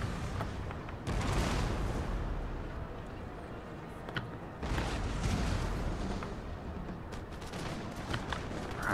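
Massed cannon artillery fires in a Napoleon: Total War battle, with rolling booms and dense rumbling volleys that swell in two big waves. Scattered sharper reports stand out over the continuous loud din.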